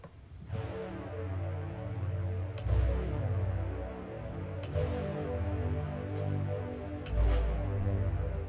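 A stock strings preset in FL Studio plays sustained, layered chords in a remake, changing in steady blocks with a few soft accents, smooth and alone without voices.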